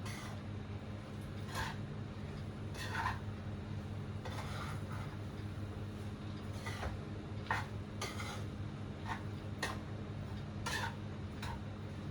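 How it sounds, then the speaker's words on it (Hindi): Spices and fennel seeds being stirred in a pan alongside brewing tea, with repeated metal scrapes and clinks of a spoon against the pan over a steady low hum, close and moderately loud, no talking. "अब इस मसालों को करते हैं अच्छे से मिक्स।"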